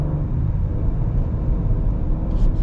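A 2022 Ford Explorer ST with its 2.7-liter engine pulling away, a steady loud low rumble from inside the cabin with no speech.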